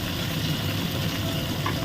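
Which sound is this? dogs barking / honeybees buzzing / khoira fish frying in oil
khoira fish frying in oil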